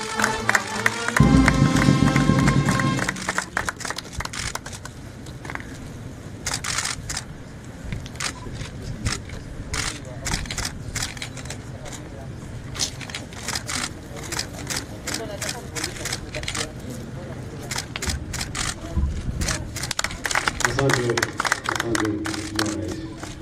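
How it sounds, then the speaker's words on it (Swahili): Sustained crowd applause fills an official project handover ceremony with President Samia Suluhu Hassan as guest of honour, dense and steady throughout, with brief tonal sounds near the start and a swell toward the end. "Makofi tafadhali."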